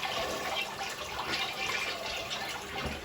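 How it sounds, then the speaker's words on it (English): A toilet flushing in a bathroom during cleaning: steady, close rushing water that holds at an even level for the whole stretch, with no voices over it. "So for the toilet, I just do a flush."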